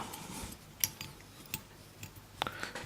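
Small scissors snip fly-tying thread while a fly is tied, a few faint, sharp metallic clicks spaced apart in a quiet room.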